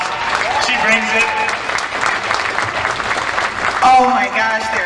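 Audience applause at a campaign kickoff for State Auditor Julie Blaha, a short burst of clapping from a moderate crowd mixed with cheers and voices.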